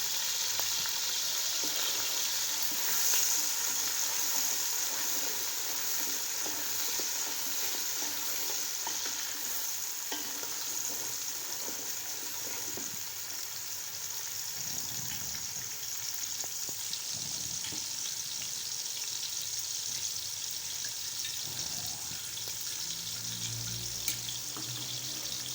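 Beef macaroni with peas fries in a pan, giving a steady, even sizzle that runs unbroken throughout, with occasional soft stirring scrapes and no talking.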